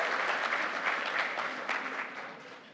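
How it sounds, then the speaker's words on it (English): Brief warm applause from an awards-night audience at the Golden Apple Awards for educators, a dense burst of clapping that slowly fades. "Let's give Shakina a big round of applause."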